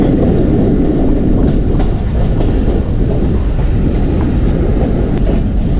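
The Fareed Express pulls into Kasur railway junction in Pakistan with a loud, continuous rumble and rattling wheel clatter, close by, with faint squeals and no voices.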